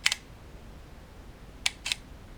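A Panasonic GF3 mechanical shutter fires twice, each a brief clunky double click, with the second release stretched by a longer exposure, close and alone in a quiet room.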